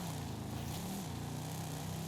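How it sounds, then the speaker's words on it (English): A straight-six car engine in Forza Horizon 5 drones at a steady pace, a continuous buzzy rumble with a slight pitch dip partway through, heard alone at low volume. "Sounds pretty meaty for a straight six, doesn't it?"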